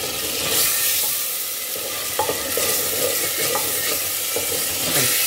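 Tomatoes sizzle loudly in a pan as they are sautéed until soft for a Goan prawn and okra curry, with a continuous frying hiss broken by repeated stirring scrapes and clicks and no talking.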